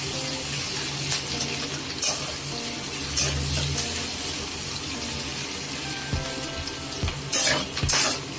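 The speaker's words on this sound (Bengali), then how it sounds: "এই মাছ ভাজার তেলের মধ্যেই দিয়ে দিলাম সাদা জিরে ফোড়ন" White cumin seeds crackle and sizzle in oil left over from frying fish, with a soft steady fry hiss, close by, and a few sharp scrapes and clinks from a utensil.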